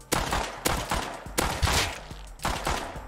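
Gunfire in the survival video game Rust comes as a series of sharp, loud shots in quick bursts, several within about three seconds, with short echoing tails and no talking.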